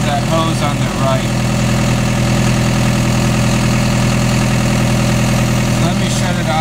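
A diesel engine with a leaking hose idles steadily, a loud continuous rumble with an even mechanical clatter, close up, and faint voices are heard beneath it.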